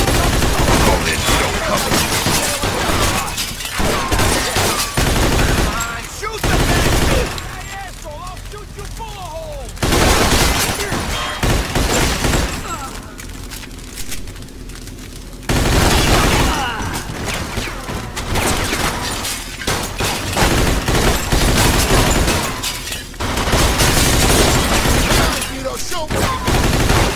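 In the Mafia 2 video game, a heavy gunfight bursts out in loud sustained volleys of automatic fire, broken by a few quieter lulls before the shooting returns, close and intense throughout.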